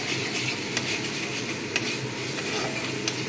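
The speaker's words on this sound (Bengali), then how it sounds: "গ্যাসের ফ্লেমটাকে আমি মিডিয়ামে রেখে এটা কষাচ্ছি।" Chana dal masala fried and stirred in oil over a medium gas flame, a continuous even sizzle with a few light spoon scrapes against the pan.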